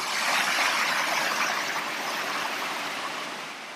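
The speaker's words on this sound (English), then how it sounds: "You can hear the river" A loud mountain river rushes on the way to the Schreckhorn hut, a dense, continuous roar of flowing water filling the whole stretch with no voices over it.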